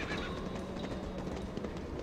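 In a Man vs. Wild video game, a horse neighs and whinnies over the clatter of galloping hooves. The sound is steady and fairly faint, with no talking.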